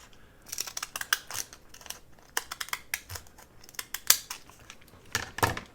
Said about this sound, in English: I'm just going to use my little decal scissors here